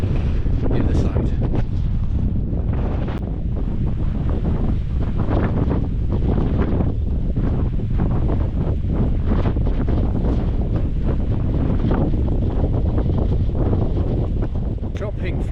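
Strong wind buffets the microphone on an exposed gritstone edge walk at Stanage Edge in the Peak District, a loud, continuous roaring gust noise with no let-up.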